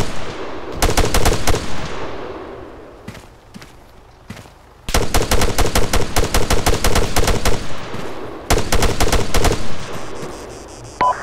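Automatic weapons fire in the military shooter Arma 3: several loud, close bursts of rapid shots separated by brief lulls, with scattered single shots between and a long sustained volley in the middle.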